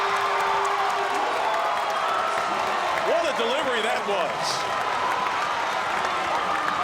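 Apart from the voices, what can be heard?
basketball crowd cheering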